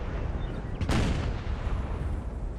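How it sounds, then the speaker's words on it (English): A single artillery boom from a Napoleonic-era cannon in the strategy game Napoleon Total War, a UK versus France battle, rising sharply out of a steady rumbling battlefield din. "You see his little artillery there?"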